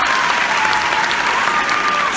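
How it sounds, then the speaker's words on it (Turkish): A concert audience applauds continuously and loudly, a dense close wash of clapping across the whole moment. "Cemil Hocam alkışlar."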